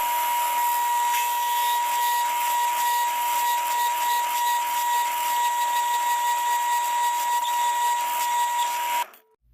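A power drill bores holes into a wooden charcuterie board held in a clamp. Its loud, steady whine runs without a break for about nine seconds and then cuts off abruptly.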